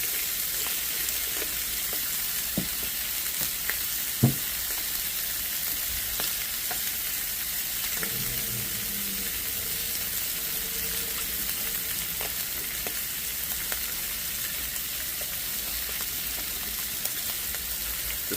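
Pompano fillets fry on a Blackstone griddle with a steady, bright sizzle throughout, broken by occasional pops and light clicks, with a faint low hum in the middle stretch.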